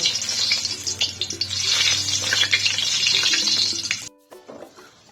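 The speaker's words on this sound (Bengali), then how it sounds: "কড়াইয়ের তেল গরম হয়ে গেলে শুকনো লঙ্কা দিয়ে দেব" Dried red chillies hit hot mustard oil in a kadai while cooking gaathi kochu biryani, giving a loud, steady broadband sizzle for about four seconds before it cuts off to near quiet, with no talking.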